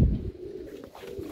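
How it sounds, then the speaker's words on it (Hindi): Pigeon cooing near a rooftop loft perch, a low soft throaty coo sounding steadily for a moment, with no talk. "ये दोस्तों एक और कबूतर आया बैठने पे"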